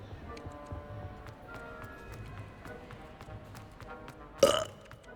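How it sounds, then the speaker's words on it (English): A game character in Hogwarts Legacy lets out a loud, short belch as a polyjuice potion wears off, a single burst near the end over a busy background of footsteps and ambient game sound. "Didn't mean to belch in your face."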